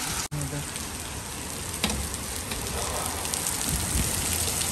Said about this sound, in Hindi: बारिश बहुत कुत्ते वाली स्टार्ट हो गई है